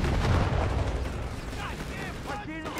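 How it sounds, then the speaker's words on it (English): German MG-34 machine gun fire in the Company of Heroes 3 strategy game, a burst of rapid shots and booms among other battlefield explosions, followed by a voice talking over the fighting. "An MG-34 back in action."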